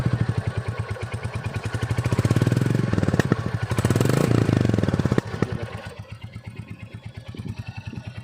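A Royal Enfield Standard Bullet 350 engine idles with its silencer fitted, giving a loud, close, steady thumping beat that swells with a couple of blips of the throttle and then settles back to a slower idle.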